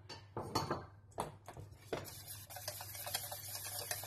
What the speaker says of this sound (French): On mélange jusqu'à avoir un mélange vraiment bien lisse